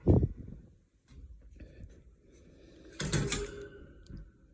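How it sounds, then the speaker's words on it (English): A small wire door on a sugar glider cage is pushed shut, giving a sharp clatter at the start and a metallic rattle and latch click near the end, quiet and close against low background noise. "I would close this door"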